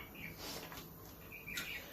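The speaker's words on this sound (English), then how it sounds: "in the forest were many different birds of bright colors which sang lovely songs" Birds sing in a forest, with faint scattered chirps and tweets over a soft background hiss.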